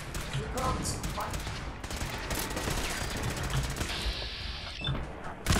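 Automated turrets in Fallout 4 rattle off rapid, sustained bursts of gunfire, close and busy, with a voice talking intermittently beneath and across the shooting.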